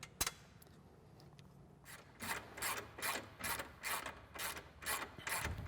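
A ratchet wrench clicks in steady repeated strokes while tightening the fasteners of a Polaris PRO HD winch on a Sportsman 570 ATV, close and fairly quiet after a sharp initial knock.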